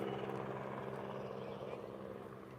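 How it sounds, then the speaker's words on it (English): A helicopter flies overhead at sunset, giving a broad steady rotor rumble that fades slightly as it passes, with voices talking over it. "Second, chopper."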